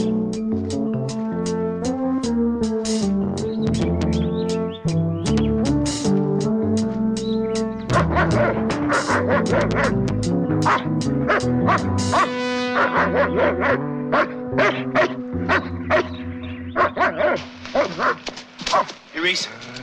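Dogs bark and yip around off-limits woods, a run of barks layered under a loud, dense dramatic music score, with voices in the mix.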